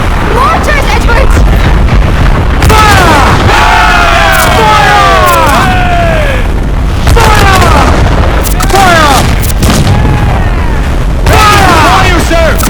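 Mortar explosions in the naval battles of Assassin's Creed Black Flag, loud booms and bursts repeating over several seconds amid crowd-like shouting and whistling descents.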